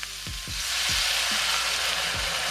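Garlic sizzles hard in a hot pan as sherry wine is poured in. A steady broadband frying hiss swells and holds, with a few soft low knocks from stirring. No one speaks.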